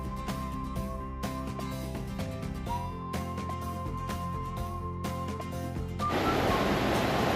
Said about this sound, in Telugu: ఈ వాటర్ క్యాస్కేట్ దగ్గరకు వచ్చామో